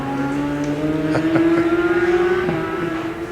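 Racing motorcycles, a new Yamaha R1 and an older Suzuki GSX-R, roar past at Donington Park, a loud sustained engine note climbing steadily in pitch with a few sharp crackles.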